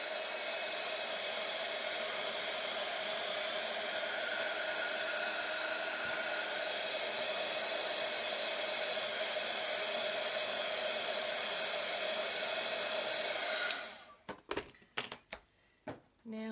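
A handheld heat tool blows a loud, steady stream of hot air onto a craft piece for about fourteen seconds, then cuts out and leaves a few soft knocks and clicks.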